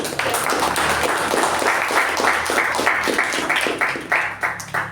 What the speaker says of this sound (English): I think we can have a huge round of applause for the